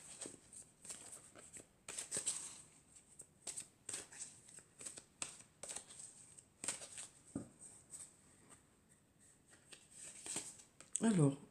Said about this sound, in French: Alors, je vais tirer déjà 4 cartes.